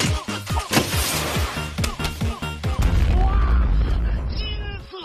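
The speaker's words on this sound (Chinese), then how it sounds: "三个樱桃炸弹" A cherry bomb in Plants vs. Zombies goes off as a loud, deep blast with a long rumbling tail, cutting through a steady rhythmic game soundtrack.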